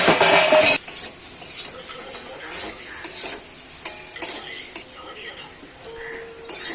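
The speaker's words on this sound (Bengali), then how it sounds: "নুন হলুদ দিয়ে এই যে আমি একটু কষিয়ে নেব" Fish being sautéed in a pan with fine salt and turmeric, a soft sizzle under light stirring and occasional scrapes, with a burst of louder frying at the start and quiet talk in the background.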